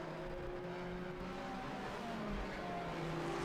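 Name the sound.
two-stroke Kohler race car passing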